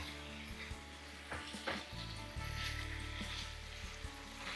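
Fried paneer tumbles into a hot pan of sauces for chilli paneer, setting off a loud, steady sizzle after a few clatters and stirring knocks, continuing strongly to the end.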